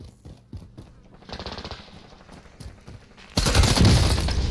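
Automatic gunfire in Call of Duty Warzone, rapid bursts of shots at mid-distance that build into a loud sustained volley at the end.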